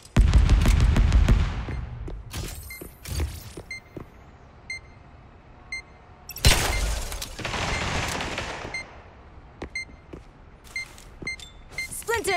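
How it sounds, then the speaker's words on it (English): Grenade and gunfire in the shooter game Spectre Divide: loud bursts of blasts and shots with clustered crackling, separated by quieter gaps with small beeps and interface tones. "Spectre grenade."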